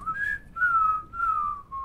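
A player whistles during an Overwatch match, three sustained tonal phrases, each gliding slightly, clear and close, with no game sounds or talk audible.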